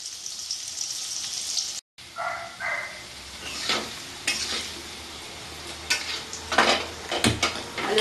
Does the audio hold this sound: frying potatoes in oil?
yes